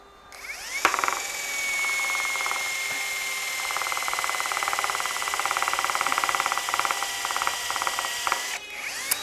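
An electric drill fitted with an iron nail used as a bit bores into a thick block of wood, a steady loud whine with a rapid chattering grind running for about eight seconds before cutting off.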